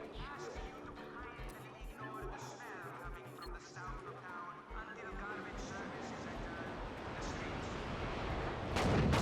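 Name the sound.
airstrike gun explosions in Just Cause 3 video game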